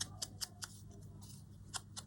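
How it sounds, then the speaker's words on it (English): Scissors snip through paper in a series of short, crisp cuts, close and fairly quiet, spaced unevenly over a faint background hum. "I do prefer the thinner scissors"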